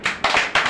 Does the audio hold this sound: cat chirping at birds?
no